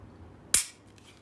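A ZEV OZ9 pistol slide slams forward once after release, a single sharp metallic snap, close and loud against a quiet room.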